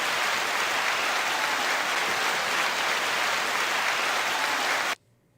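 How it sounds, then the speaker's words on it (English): An audience applauds loudly and continuously for about five seconds, a dense wash of clapping that stops abruptly into near silence. "9 second applause."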